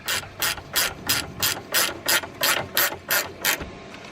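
Ratchet wrench nipping up a 17mm top nut on a new rear drop link of a BMW E87 120d, a close, crisp series of about eleven evenly spaced clicking strokes with no talking.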